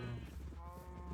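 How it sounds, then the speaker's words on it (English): A Minecraft sheep in a temporary breeding farm gives a short, wavering bleat, faint and close, lasting about a second with no talk over it. "Breed, breed, my little sheepies."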